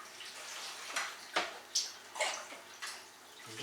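Water sloshes and splashes over a freshly repotted Renanthera orchid in irregular close bursts, several uneven pours and gushes with no talking.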